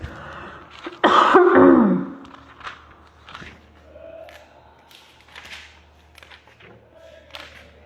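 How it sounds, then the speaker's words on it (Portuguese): A loud, harsh cough bursts out close by, followed by a few quieter throat-clearing sounds and faint shuffling in an otherwise quiet room. "Peraí, eu vou tossir."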